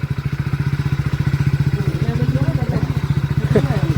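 A motorcycle engine idles close by with a steady, pulsing thrum, the putter continuing throughout with a faint clatter near the end.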